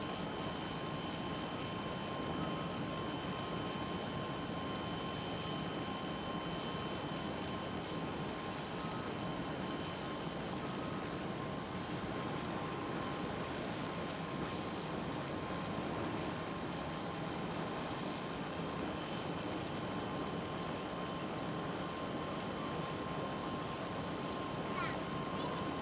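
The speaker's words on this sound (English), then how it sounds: "With the KLM A321 Neo taxiing behind." A KLM Airbus A321neo taxis at Schiphol airport, producing a sustained engine drone with faint high tonal whines that holds steady throughout, while a person talks over it.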